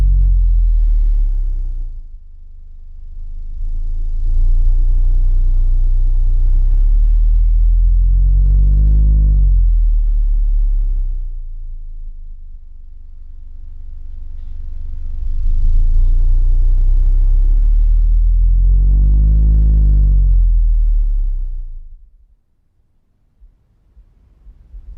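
Low-frequency sweeps pumped through a Skar DDX 12-inch subwoofer, a budget Sundown SA clone, rising and falling in two long loud passes with deep booming rumble and rattle, no voices.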